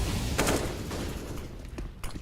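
A few muffled gunshots pop during a professional CS:GO match between Astralis and BIG, brief reports over a dense, steady background of game noise.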